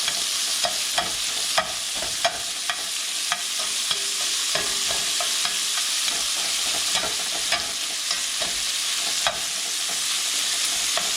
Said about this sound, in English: Start busting it up into smaller pieces. Now that it's starting to fry.